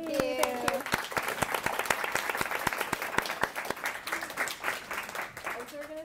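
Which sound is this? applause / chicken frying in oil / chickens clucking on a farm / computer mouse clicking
applause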